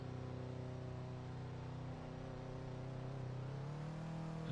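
A car engine in a Roblox driving game holds a steady, droning hum that rises gradually in pitch as the car accelerates, continuous and unbroken, with no talking.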